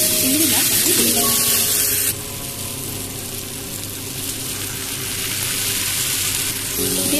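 Pre-fried prawns go into a yam curry in a hot pan. A loud, close sizzle hisses throughout and swells into a harsher, brighter spit after about two seconds.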